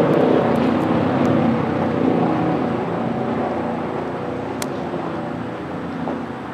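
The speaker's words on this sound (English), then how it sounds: "it's a really cool tractor to see and hear at work" Big Bud four-wheel-drive tractor working out in a field, a broad, steady diesel roar heard from a middle distance that fades slightly as it continues, with a few faint high clicks over the top.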